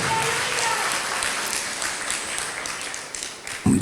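A church congregation at a Holy Communion service applauds, dense sustained clapping that fades slightly before a short loud voice cuts in at the end.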